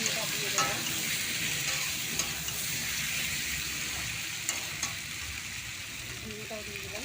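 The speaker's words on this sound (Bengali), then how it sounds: "মশলাটা দিয়ে দিলাম। একটু নাড়াচাড়া করার পরে ঝিঙেটা দিয়ে দেবো।" Turmeric, cumin and coriander powder with salt sizzle in a hot pan while being stirred, a steady close frying hiss with a few scrape and clink accents, no talking.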